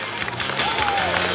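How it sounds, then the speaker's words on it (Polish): Audience applause with a crowd for brave young women at a televised stunt show, a steady wash of clapping and cheering filling the short span, with a faint rising tone over it. "Michał Beneś, proszę Państwa, a tym razem duże brawa dla odważnych dziewczyn."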